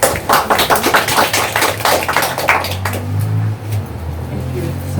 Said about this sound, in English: Let's have a applause